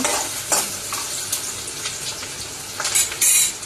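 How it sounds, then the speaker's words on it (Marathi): Green chillies sizzle and fry in a hot pan while being stirred, with scraping strokes of a spatula at an irregular rhythm, close up. "तर आता हे परतून घेते मस्त"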